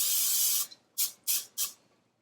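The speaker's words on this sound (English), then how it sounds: "So we're just gonna spray it because that's easier." Olive oil cooking spray misted into a loaf pan: one long hissing burst, then three short quick sprays, close and clear.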